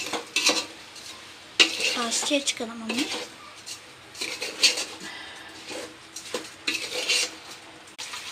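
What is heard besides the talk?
stirring rice with masala in a pot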